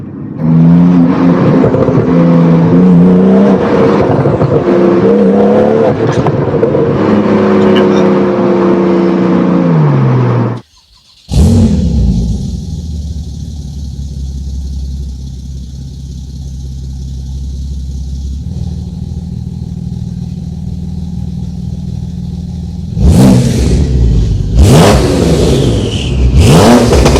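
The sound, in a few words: Stage 2 Porsche 911 Turbo engine revving on track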